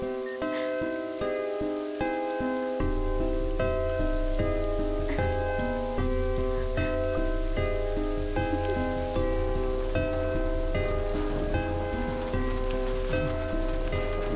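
Steady rain pours down outdoors at night in a dramatic movie scene, a continuous dense hiss of drops striking surfaces, with a low rumble and a faint melodic music score running underneath throughout.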